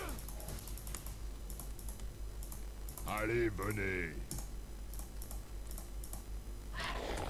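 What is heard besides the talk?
typing on a computer keyboard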